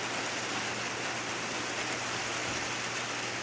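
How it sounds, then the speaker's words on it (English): Steady rain falls outside a window on a May day, a dense, even hiss without a break, heard alone and at moderate level for a few seconds. "it is raining right now"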